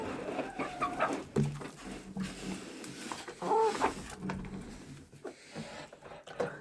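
Hens cluck and murmur intermittently at close to moderate distance, with soft scattered calls and background rustling.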